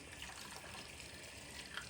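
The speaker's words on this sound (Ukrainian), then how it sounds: "Заливаю кип'ятком, чайник тільки закипів" Freshly boiled water from a kettle pours and trickles into jars, a soft, continuous stream, quiet and steady throughout with a few faint splashes.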